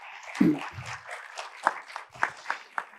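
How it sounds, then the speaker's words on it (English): Scattered applause from an audience at a talk, a few distinct claps standing out above a thin background, with a brief voice near the start. "Guys, why don't you give a round of applause to Liz?"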